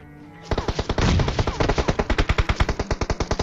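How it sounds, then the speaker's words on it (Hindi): Rapid automatic gunfire from a mobile battle game played on an iPad Mini 5, a dense burst of about two dozen evenly spaced shots that starts abruptly and keeps a steady rhythm, loud and close. "मेरे पे पीछे से फायर हुआ, लेकिन जिस बंदे ने फायर किया उस बंदे को किसी दूसरे बंदे ने मार दिया"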